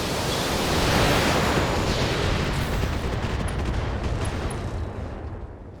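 BattleTech mech alpha strike firing all weapons at once, a sustained roaring barrage of broadband noise that swells early and then slowly tapers, loud and continuous with no voices.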